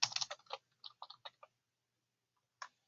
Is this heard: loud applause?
no